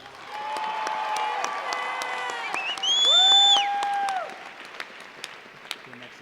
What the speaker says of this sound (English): Let's give a round of applause for your 2006 to 2007 state officer.